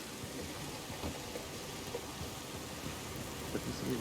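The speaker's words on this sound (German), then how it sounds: "Das ist eben der fallende Regen" Falling rain in Red Dead Redemption 2 patters softly and continuously, a faint, even wash of drops with occasional low rumbles beneath.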